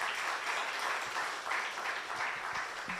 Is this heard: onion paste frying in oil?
no